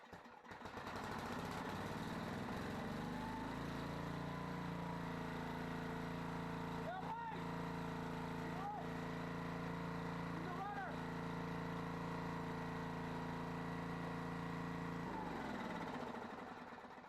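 A 7HP Briggs and Stratton generator engine fires up and settles into a steady, loud running drone, holding for many seconds before cutting off; a brief voice is heard partway through.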